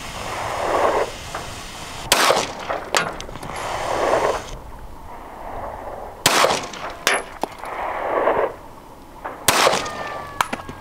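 Three loud, sharp 9mm pistol shots fired outdoors at a bush, each spaced several seconds apart, with a brief ringing echo after each report and quiet outdoor ambience between.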